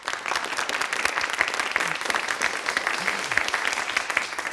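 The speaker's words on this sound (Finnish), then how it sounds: "Toivotetaan raikuvien aplodien saattelemalla tervetulleeksi Marko Stenroos." Rousing audience applause welcomes a speaker at an antiracism talk in Finland, a dense, even wall of clapping that holds steady and fairly loud throughout.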